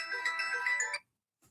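A phone ringtone plays a bright electronic melody for about a second, then stops, followed by a faint tap.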